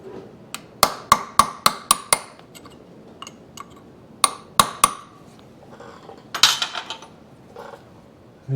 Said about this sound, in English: I need to give me a chisel to knock that over.